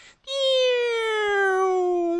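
A bare-throated bellbird (araponga) in the Atlantic Forest gives a long, loud, steady whistling call with a slowly falling pitch, like a kettle coming to the boil, sustained for about two seconds.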